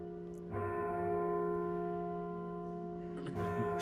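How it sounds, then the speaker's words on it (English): A large church bell rings in a belfry, one deep resonant strike that swells in after a short pause and hums on with a long sustained ring before a second strike arrives near the end. "a deafeningly loud bell starts ringing"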